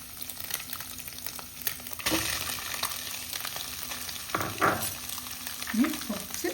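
Cooked rice gets stir-fried in a hot pan, a continuous loud sizzle with repeated scraping and tossing strokes from a spatula against the metal.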